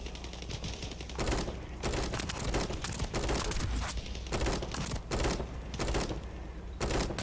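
Rapid bursts of automatic weapon fire from The First Descendant, played in co-op: loud, dense volleys in several separate strings over steady game background, with no talk.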